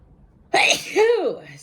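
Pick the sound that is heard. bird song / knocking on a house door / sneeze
sneeze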